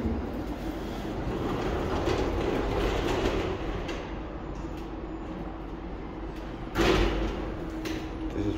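Tram passing near the Koskipuisto tram stop in Tampere city centre, a steady rumbling rolling noise with a brief louder burst near the end, heard close by without talk.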